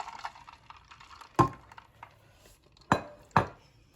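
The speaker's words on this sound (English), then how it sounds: "So let's go ahead and give it a little stir." Spoon scraping and clinking against a pot while tamarind agua fresca is stirred, three sharp metallic knocks standing out over faint quiet background noise.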